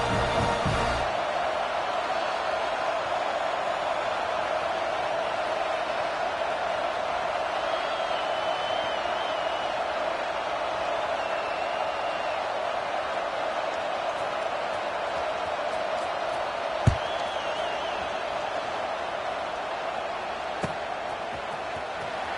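A football stadium crowd in a video game keeps up a steady, fairly quiet roar and murmur, with a couple of sharp isolated knocks late on.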